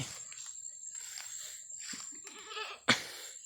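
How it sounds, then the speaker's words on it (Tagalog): One short goat bleat cuts in near the end over a quiet background with soft rustling. "kambing"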